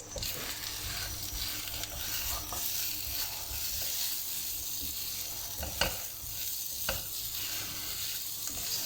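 Balochi chicken tikka karahi with lemon slices being stirred and fried in a pan, a continuous close sizzle broken by scraping strokes of a utensil and a couple of sharp metallic knocks.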